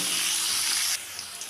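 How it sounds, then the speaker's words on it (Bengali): Potatoes fry in oil with salt and turmeric, giving a soft, close sizzle that cuts down abruptly after about a second to a quieter hiss. "আলুগুলো আমি একটু নুন দিয়ে ভেজে নেব"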